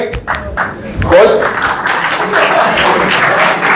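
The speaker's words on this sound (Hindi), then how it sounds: "बस कर दो ये कल्चर तालियों का" Sustained applause from an audience at a meetup in Islamabad, steady clapping throughout in a hall with a voice briefly audible at the start.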